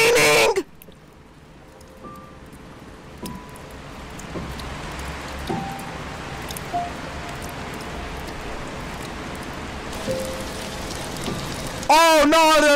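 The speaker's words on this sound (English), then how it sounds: "It's raining!" Steady rain falls in the video game Until Then, a soft continuous patter across the surface with small drips, framed by brief bursts of game sound at the start and end.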